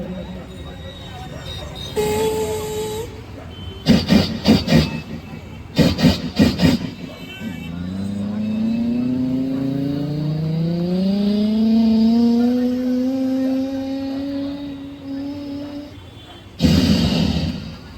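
A voice imitates a train: a rising, whistle-like tone sweeps upward and holds, with short rhythmic puffing bursts before it and a loud burst at the end.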